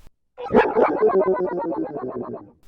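Electric guitar played through an Ezra's Echo effects pedal, its notes smeared into a wobbling, pitch-shifting wash of LFO-modulated repeats. The sound swells in loud and stays dense and warbling for a couple of seconds.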